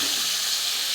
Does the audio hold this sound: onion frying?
yes